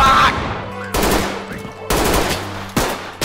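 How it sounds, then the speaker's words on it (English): Gunfire in the tactical shooter Ready or Not: three or four loud, sharp shots spaced about a second apart, each with a decaying indoor echo and faint background hum. "Oh no, I used all my ammo on civilians."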